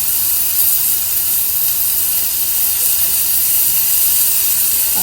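A birria taco sizzles steadily in a hot pan as it cooks, folded over. The hiss is loud, close and continuous, with no talking.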